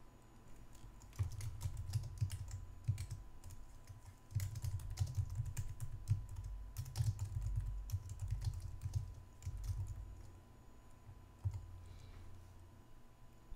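Rapid typing on a computer keyboard, steady bursts of soft key clicks with brief pauses, close and fairly quiet, no voices.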